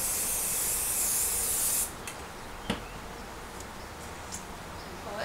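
A steady hiss of an aerosol spray can lasting under two seconds, then it stops, leaving quiet room noise with a couple of small clicks.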